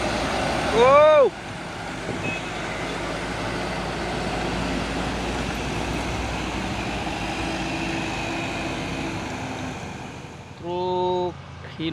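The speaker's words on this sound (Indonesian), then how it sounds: "Truk Hino Lohan TI Kenjo Group. Slow tapi pasti melewati tanjakan Bukit Kodok." A Hino truck grinds slowly up the Bukit Kodok hill with a continuous low engine drone, a horn toot sounds at the start, and a musical multi-tone horn sounds near the end.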